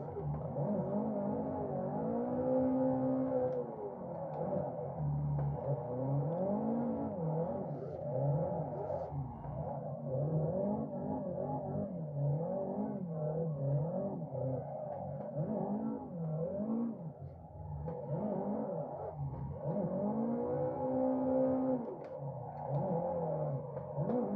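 A car drifting around the figure-eight at Sweetwater Motorplex in Assetto Corsa, its engine note sweeping up and down continuously as the throttle is worked through the slides, loud and steady with no talking.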